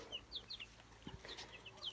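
Scattered soft clucks and short chirpy calls from several chickens in a poultry yard, with a brief low thump midway, over a steady background hum.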